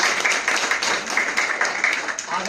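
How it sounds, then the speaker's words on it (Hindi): Applause from a class audience for hosts at a Friday discipline session, a short burst of scattered hand clapping at moderate volume, fairly close and uneven in rhythm. "जोरदार तालियां"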